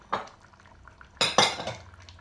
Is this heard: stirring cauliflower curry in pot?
yes